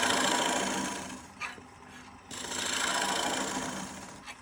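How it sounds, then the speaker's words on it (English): A wood lathe runs while a piece is being turned, giving a continuous whirring drone with a rough, raspy edge at moderate loudness. The scraping briefly drops and then returns, with a few light knocks along the way. "I'm going to shut off the lathe"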